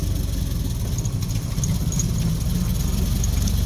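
A Ford Model T's engine chugs in first gear as the car pulls away, a loud, steady low rhythmic thrum with faint higher rattles on top.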